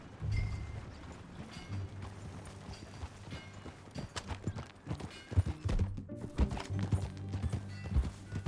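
Horse hooves clip-clop in Red Dead Redemption 2, a steady run of hoofbeats with a low rumbling backdrop, growing busier and louder toward the end.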